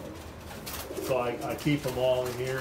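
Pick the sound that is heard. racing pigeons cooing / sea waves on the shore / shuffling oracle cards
racing pigeons cooing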